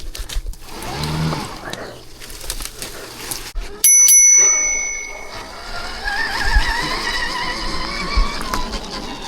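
Bicycle-style bell giving a sharp metallic ding at a dirt track, cutting in briefly over wind noise and outdoor rumble, with off-road motorcycle engine sound continuing around it.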